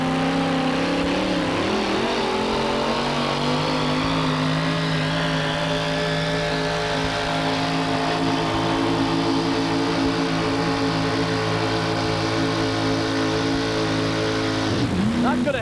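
Competition pulling trucks at a 1987 USHRA truck pull in Buffalo, New York, rev their engines in a loud, continuous roar that rises in pitch as they accelerate, with an announcer speaking over it.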